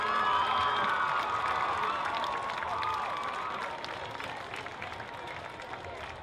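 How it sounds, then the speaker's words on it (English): Crowd in high school football stadium bleachers applauds and cheers for a visiting marching band, a broad wash of clapping and shouting with whistle-like tones, loud at first and slowly fading. "Let's have a round of applause for the visiting marching Mustangs."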